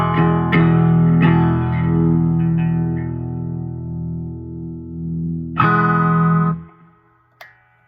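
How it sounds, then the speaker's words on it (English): Electric guitar chords played through a multi-effects pedal ring out with a wash of reverb, bright and jangly, several strums sustaining and decaying, ending with a short pluck. "the reverb just gives it a little bit of more of that bright kind of jangly sound"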